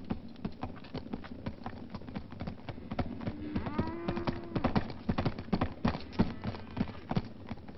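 Horses walk in a Western film scene, hooves clip-clopping in a steady, overlapping rhythm at close range, with a low drawn-out animal call partway through.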